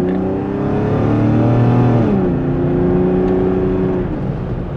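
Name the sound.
BMW 525i E34 Touring wagon engine accelerating under full throttle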